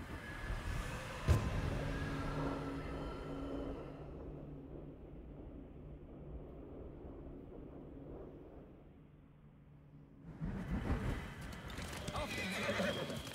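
Horse in Ghost of Tsushima whinnies loudly near the start, then hooves clip-clop steadily under wind as the rider moves, with louder hoofbeats and movement returning at the end.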